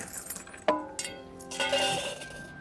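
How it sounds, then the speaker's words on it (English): A bunch of keys jangles and clinks in a workshop, a sharp metallic rattle followed by a brighter run of ringing chinks, close and alone with no talk. "I better go and tidy these keys up"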